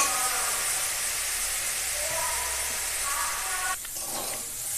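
Chillies and garlic frying for a pumpkin leaf recipe, a continuous, even hiss of sizzling oil close by, slightly dipping near the end; no talking.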